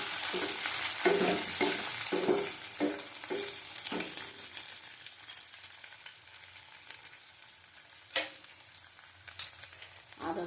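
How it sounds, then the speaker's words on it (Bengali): Lentil batter with six green chillies sautéed in a pan, a continuous frying hiss broken by repeated spatula scrapes, several quick strokes early and a few sharper ones later, with no talking. "আবার কষিয়ে নিচ্ছি।"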